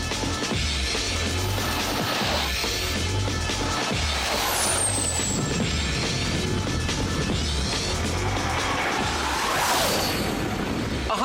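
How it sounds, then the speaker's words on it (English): Gas-powered turbine go-kart speeding down a runway, a loud continuous engine roar and rushing whoosh with a rising high whine sweeping past, steady and close throughout. "You're now officially the owners of the fastest gas-powered turbine go-kart in the world."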